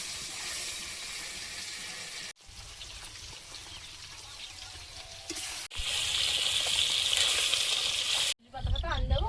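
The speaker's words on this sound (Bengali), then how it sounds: "মাছগুলো ভেজে নেব।" Steady hissing sizzle of fish frying in hot oil, broken by a few abrupt cuts, with louder crackling bursts toward the end.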